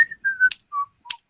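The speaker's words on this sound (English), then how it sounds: "why he whistled half of the Andy Griffith theme?" A person whistles a few notes of the Andy Griffith Show theme tune. The short, clear tones are separated by brief gaps and broken by a couple of sharp clicks.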